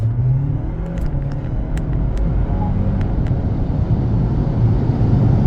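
GWM Tank 300 SUV launching hard from standstill, its engine a loud sustained low rumble and roar building steadily with no talk over it.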